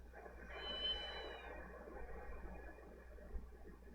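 A cat in the video game Ghost Trick gives one short, clear meow over a low, steady game background hum.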